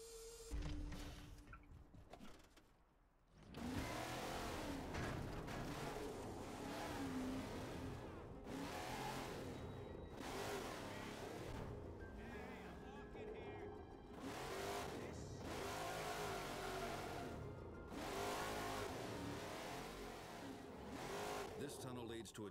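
A supercar engine revs in the Xbox 360 game Crackdown, a loud, sustained roar rising and falling through gear changes, with tire noise and game effects layered over it.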